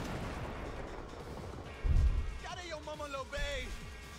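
A grenade in the video game Cyberpunk 2077 goes off with a single deep, booming low thump about two seconds in, followed by a short rumbling tail as synthetic tones and game sounds carry on around it.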